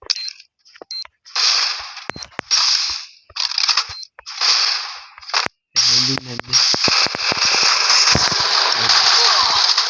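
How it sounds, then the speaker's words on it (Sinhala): Bomb explosions in the mobile battle-royale game Free Fire, heard as a string of loud, choppy bursts that give way to a dense, continuous roar of blasts and crackling in the second half. "බෝම්බ් එක ලෝඩ් කළා"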